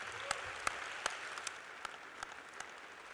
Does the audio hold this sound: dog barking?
no